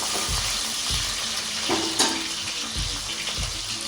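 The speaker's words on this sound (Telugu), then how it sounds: "ఒక్క నిమిషం వేయించుకుంటే సరిపోతాయి ఆనియన్స్ ఆనియన్స్ వేసిన తర్వాత ఒకసారి అలా కలుపుకొని" Onions sizzle loudly in a hot pan with continuous bright crackle, broken by several rhythmic low scrapes and knocks of a spoon stirring them, close up and without talk.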